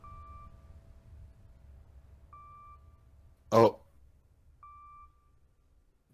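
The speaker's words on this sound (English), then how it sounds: "I don't think that beeping is the spaceship." Short electronic beeps in the video game To The Moon sound at spaced intervals, each a clean steady tone lasting about half a second, faint over a quiet low hum, with a brief voice exclamation between them.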